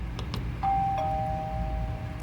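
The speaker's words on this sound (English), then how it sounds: "There's also a built-in doorbell," A Tapo DL110 smart door lock sounds its built-in doorbell chime indoors, a clear two-tone ding-dong with a higher first note and a lower held second note, ringing alone over faint room hum.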